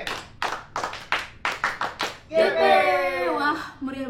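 An audience claps in a quick patterned rhythm of sharp bursts, a group clap cheer at a church youth event, followed by loud cheering and voices.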